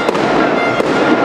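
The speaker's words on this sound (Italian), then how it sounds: "Fuochi d'artificio." Fireworks going off in a continuous loud crackling wash, with a couple of sharper pops standing out through the dense sizzle.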